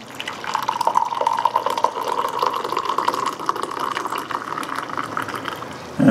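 Brewed French press coffee poured into a cup in a steady, continuous liquid stream, close and fairly loud, running for several seconds with no talking.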